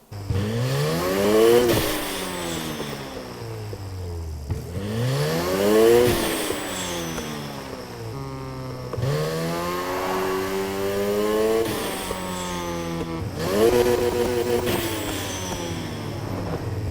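Need for Speed video game car with an HKS-style blow-off valve, revving hard in repeated pulls with rising engine tones, each lift-off releasing a whooshing burst, loud and close with no voices.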